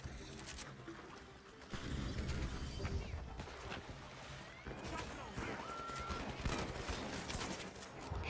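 A shotgun carbine firing in the online shooter The Finals, with dense bursts of gunfire and mechanical clatter amid busy game noise, moderately loud throughout.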